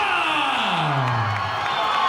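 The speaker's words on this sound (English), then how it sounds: "it sounds like Will Shutt has the crowd definitely behind him in this fight tonight" A cage-fight crowd at Midwest Cage Championship 18 cheers, whoops and yells for fighter Will Shutt, a loud, dense roar filling the arena with voices rising and falling throughout.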